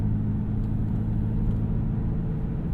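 A 2017 BMW X6 M, weighing almost 5,200 pounds, drives and corners, heard from inside the cabin as a steady, low, muffled engine and road rumble.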